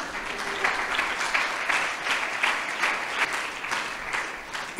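Steady applause from a church congregation during a Tamil sermon by Rev. R. Dhasiah, a dense continuous clapping that holds at an even level for several seconds with no voices over it.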